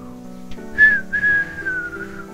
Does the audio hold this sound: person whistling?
yes